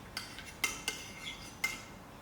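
Sour milk beaten with a little salt in a mixing dish, heard as a few light, sharp clinks and taps of utensil against the dish over a faint background, quiet and irregular.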